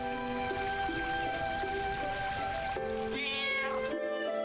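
A cat meows in a few drawn-out, wavering calls, close and clear over a steady rain-like hiss and a sustained musical drone, with no talk.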